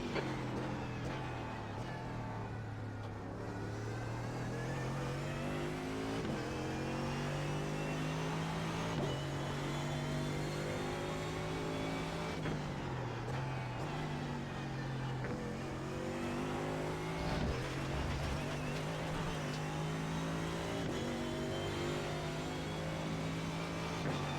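A race car engine in the sim racing game iRacing drones steadily, its pitch rising and falling through repeated upshifts and downshifts, loud and continuous with no talk over it.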